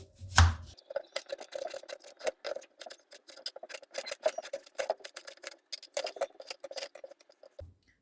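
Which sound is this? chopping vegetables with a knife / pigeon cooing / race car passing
chopping vegetables with a knife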